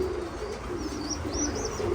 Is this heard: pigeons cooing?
yes